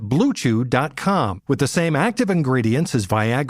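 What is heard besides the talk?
No everyday noise stands out behind the speech.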